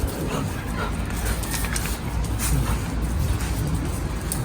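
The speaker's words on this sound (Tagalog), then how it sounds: "yung aso natin dito ang gwardya ng ating" A dog pants steadily up close, breathy and rhythmic, with a few soft whimpers over constant background noise.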